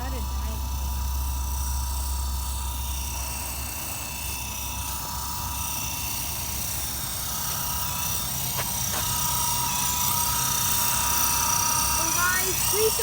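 A helicopter flying, heard as a steady whirring drone with a high buzzing whine that continues without a break and rises slightly toward the end.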